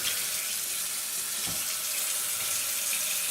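Water runs steadily while a CR250 dirt bike is washed, a loud continuous hiss and splash with a brief thump midway and no voices.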